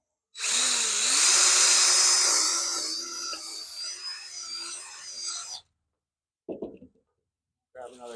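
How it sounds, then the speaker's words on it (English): A power drill boring a hole through wood for a chicken coop roost bar, a loud grinding whir lasting about five seconds, followed by short clanks. "Drill this out."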